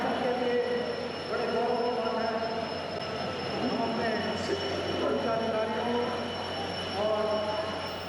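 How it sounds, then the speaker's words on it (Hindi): A Cape gauge diesel locomotive built in India pulls away, giving a steady, fairly loud rumble with drawn-out metallic wheel squeal tones that rise and fade throughout. "इंजन को रवाना किया।"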